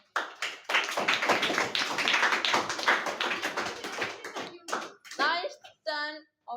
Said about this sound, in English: So please clap for the Ram.